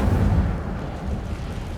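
The Incendio fire spell goes off in the video game Hogwarts Legacy as a low, rumbling whoosh of flame, a dense boom-like roar that holds steady for under two seconds without speech.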